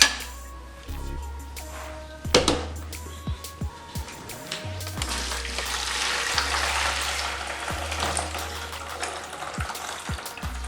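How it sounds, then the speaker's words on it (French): Boiled lemongrass water is strained through a sieve, with pouring and trickling mixed with clinks and knocks of a pot and utensils, moderately close and with no talking. "Je vais tamiser."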